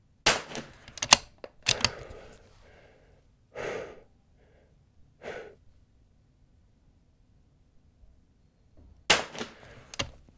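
Sharp cracks from a Vudoo V-22 rifle at an NRL22 range session come in a few spaced groups, close and crisp, separated by near silence and soft rustling.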